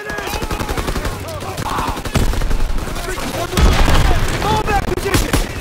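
Battlefield gunfire in the Call of Duty WWII video game, loud and dense, with rapid machine-gun bursts, heavy booms and shouted voices mixed in throughout.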